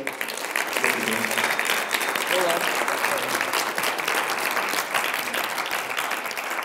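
Audience applause after a closing university debate at a research symposium, a sustained full-room clapping with faint voices mixed in beneath it.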